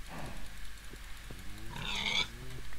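Pigs grunt and oink in a short string of low snorts in a video game, close and fairly clear, with a brief higher squeal partway through.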